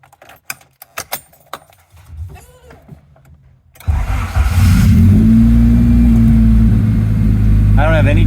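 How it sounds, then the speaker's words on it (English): A few clicks and rustles, then a 1990 Honda Civic Si engine cranks and catches, settling into a loud, steady idle with a faint whine. "Let's start her up."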